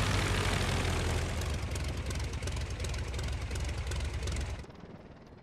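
The rotary engine of a Sopwith Camel biplane roars loud and steady while it lands in the Flying Circus game, then drops off sharply near the end to a quieter hum.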